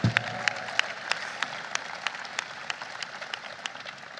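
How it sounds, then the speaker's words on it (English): An audience applauds at an event celebrating passage of the Inflation Reduction Act with President Biden: a sustained wash of clapping, with distinct individual claps popping out at a fairly regular pace, moderately distant. "yeah, round of applause for that."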